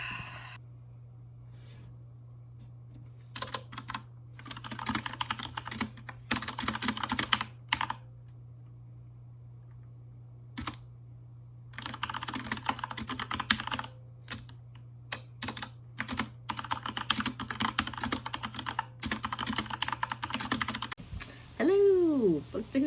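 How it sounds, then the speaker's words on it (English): Typing on a computer keyboard comes in bursts of rapid, close clicking separated by short pauses over a constant low electrical hum, with a brief rising squeal near the end. "Typing montage,"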